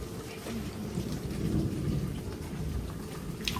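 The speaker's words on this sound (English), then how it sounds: "Rain came." Heavy rain pours steadily during a thunderstorm at a backyard cooking spot in Jamaica, a dense continuous hiss with low thunder rumbling underneath, close and loud throughout.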